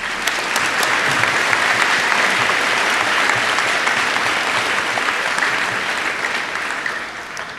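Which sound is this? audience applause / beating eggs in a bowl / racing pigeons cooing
audience applause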